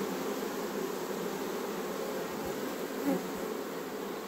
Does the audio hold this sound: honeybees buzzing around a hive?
yes